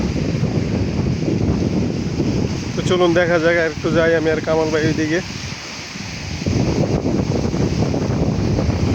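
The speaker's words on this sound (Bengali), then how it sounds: "অনেক বাতাস বইতেছে হাওয়া অনেক বেশি" Strong wind roars and buffets the microphone continuously on the seashore at Umluj, Saudi Arabia, while someone talks over it for a couple of seconds.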